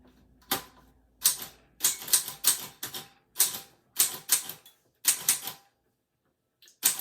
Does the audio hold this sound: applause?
no